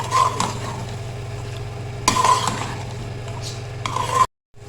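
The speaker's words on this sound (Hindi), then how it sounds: "अब इनको अच्छे से मिक्स कर लेंगे, अच्छी तरह से मसाले में कोट कर देंगे।" Boiled turnips are stirred into a spice masala in a pan. A spoon scrapes and rasps against the pan in three bursts over a low steady sizzle, and the sound cuts off briefly at the end.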